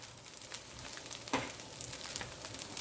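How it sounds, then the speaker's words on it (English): Fried rice with smoked sausage and egg being stir-fried in a hot pan, giving a steady, fairly quiet sizzle broken by scraping stirs and one sharp clink of utensil against the pan partway through. "Give it another good stir. Add in the egg."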